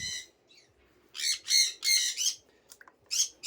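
Sun conure parrots give a series of loud, harsh squawks in bursts, near and clear, with short quiet gaps between calls.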